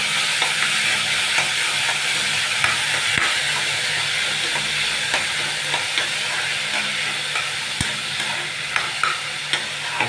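Finely chopped onion stirred and sizzling in a hot pan for a fish Malabar curry, a steady close frying hiss broken by scattered scraping and clicking strokes of the spoon, with no talking.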